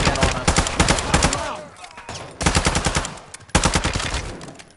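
Rapid automatic gunfire in Call of Duty Modern Warfare 2, loud sustained bursts broken by short pauses, the weapon spitting out long strings of rounds in a video game firefight.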